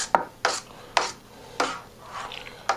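Homemade Barolo wine kit must is stirred in a fermenter during primary fermentation, giving six close, distinct scraping and swishing strokes in an uneven rhythm with short gaps between them.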